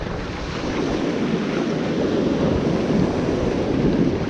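Big ocean swells roll and surf breaks near the shore, a broad continuous wash of water noise mixed with wind buffeting the microphone, steady and fairly loud throughout.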